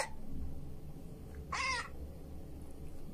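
A single harsh cawing cry from a bird in the horror game Ultimate Custom Night, short and fairly clear over a low steady hum of background game ambience.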